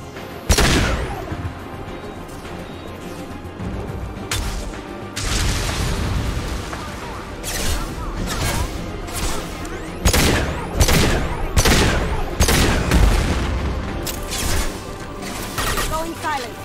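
Loud video game gunfire, with repeated sharp shots and rapid bursts cracking through a busy combat soundscape, some shots close and punchy, others layered over rumbling background battle noise, while a voice speaks briefly.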